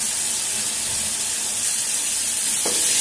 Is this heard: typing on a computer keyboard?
no